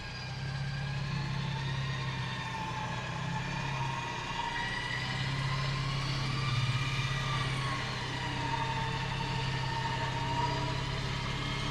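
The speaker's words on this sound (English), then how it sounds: "So let me use the winch again." A 13500 lb winch hauls a truck through deep mud, with a steady mechanical drone running without a break. Its pitch wavers slightly as the load shifts, and a low engine hum sits beneath it at moderate volume.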